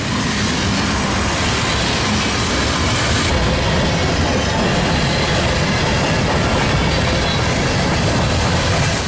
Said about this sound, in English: I've never seen a standard cab locomotive running mid-train before.